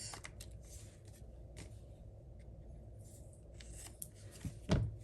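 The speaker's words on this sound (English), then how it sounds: "get our scissors, and trim away all the extra bits." Scissors trim paper for a handmade birthday card, soft snips and rustles close by against a quiet room hum, ending with a sharper cut or paper handling near the end.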